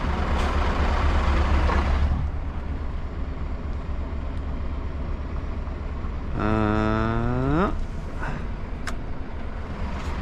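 A truck reversing at a loading site in Norway, with steady heavy engine rumble throughout and a brief rising-then-falling tonal whine partway through, no talk.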